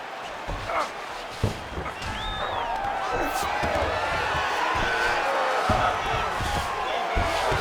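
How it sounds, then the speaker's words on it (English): Roaring arena crowd in the UFC 5 fighting game, Jorge Masvidal against Neil Magny, swelling into a steady, loud cheer as the fighters get back to their feet, with a few sharp thuds and commentary voices underneath. "big pop from the crowd as they get back to their feet"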